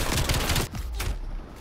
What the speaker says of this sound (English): This one isn't a fast shooting gun.